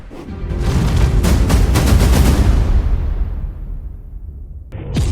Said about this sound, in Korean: 서울 한복판에서 총성이 울렸습니다.